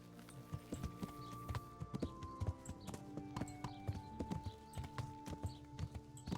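Horse hooves clip-clopping at a steady rhythm in the medieval RPG Kingdom Come: Deliverance, moderately close and continuous over a low droning game soundscape.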